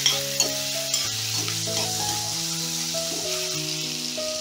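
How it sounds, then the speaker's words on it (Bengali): Chopped ginger fries with asafoetida in a pan, making a continuous gentle sizzle while stirring, under a light melodic background tune. "এবারে সামান্য একটুখানি ভাজা ভাজা করতে হবে আদাটা"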